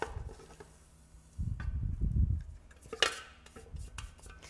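Muffin mixture is scraped and tipped from a Thermomix into a mixing bowl, with a soft thick plop, low rumbling slide, then a sharper scrape and light clinks, close and quiet.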